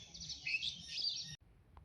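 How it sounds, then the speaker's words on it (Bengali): Several birds chirp and tweet in a misty, foggy home courtyard, a dense run of bright, high calls lasting just over a second before breaking off, followed by one faint, brief peep. "অনেক রকমের পাখি ঘুরে বেড়াচ্ছে আমাদের উঠোনের মধ্যে"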